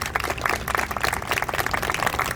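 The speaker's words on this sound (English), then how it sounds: "A huge round of applause for all of our candidates." Audience applause at an evening mayoral and city council candidates forum in Chinatown, a steady patter of many hands clapping throughout, moderately loud and fairly close.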